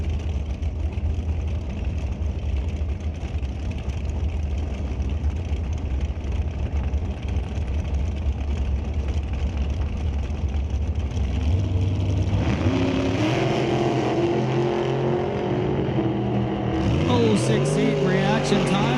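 Drag racing dragsters, a white one and one with a raw carbon fiber body, rumbling loudly at the line before engines rev up and roar harder with rising pitch, a voice talking over the noise.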